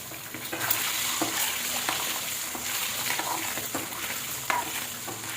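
Eggs frying in oil with turmeric in a pan give a steady, close sizzle, with light scraping and stirring taps running through it and no talking.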